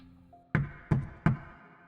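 Three evenly spaced knocks on a door, sharp and close against quiet background, used as a sound effect in a horror radio story.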